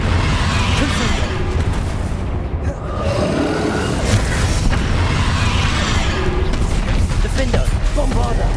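Confringo fire-blast spells from the Hogwarts Legacy video game in a battle, with continuous loud booming explosions and crashes layered over dense combat noise throughout.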